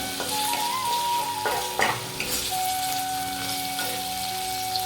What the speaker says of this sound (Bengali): মশলাটা ফ্রাই করে নিচ্ছি, পেঁয়াজ আদাটা ভালো করে